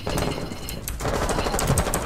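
Dense, loud automatic gunfire in the video game Rainbow Six Siege, a rapid continuous burst with a brief dip before firing resumes, close and with no talk.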